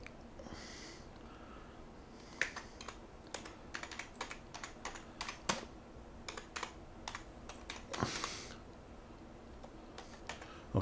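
A computer keyboard clatters with irregular bursts of close, crisp keystrokes as a project title is typed, with short pauses between words and soft breathing in the background.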